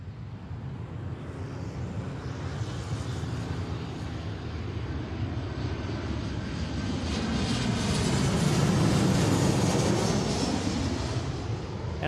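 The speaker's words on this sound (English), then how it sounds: "This is Alaska flight from Las Vegas" An Alaska Airlines jet arriving from Las Vegas at Seattle runway 34L gives a broad, rising jet-engine roar that swells toward the end as it passes close by. No one speaks.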